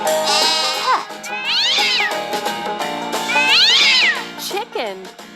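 A cartoon farm cat gives several drawn-out, pitch-bending meows in a children's animal game. The meows are loud and close, spaced across the stretch over light background music.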